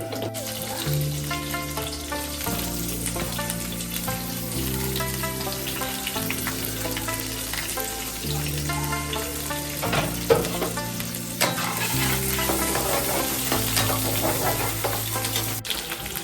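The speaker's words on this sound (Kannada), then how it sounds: "ಎಣ್ಣೆ ಕಾದ ನಂತರ ಅದಕ್ಕೆ ಕರಿಬೇವನ್ನ ಹಾಕ್ಕೋಬೇಕು" Curry leaves frying in hot oil for a mutton dry dish, a steady loud sizzle with occasional stirring scrapes, heard over continuous background music with no talk.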